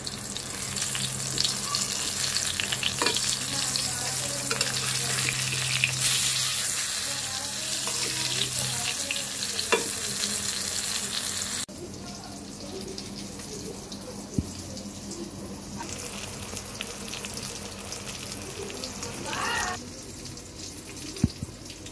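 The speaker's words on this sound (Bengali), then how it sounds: "বেগুনগুলো আমি একদম লাল লাল করে ভেজে নেব" Eggplant slices frying in hot oil until deep reddish-brown, a steady dense sizzle that runs loud at first, then drops to a quieter, softer crackle with a few sharp pops near the end.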